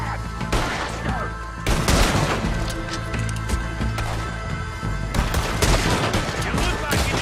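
Loud, continuous gunfire from Red Dead Redemption 2, rapid overlapping shots with heavy bursts and booming reports, dense and sustained throughout with no pause.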